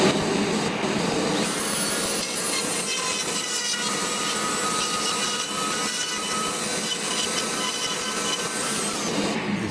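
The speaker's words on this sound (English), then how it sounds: "I'm going to use my hand router very, very carefully, like this, while the vacuum's on." A hand router whines while cutting a wooden guitar body, its pitch shifting under load, layered over the constant roar of a vacuum cleaner running the whole time.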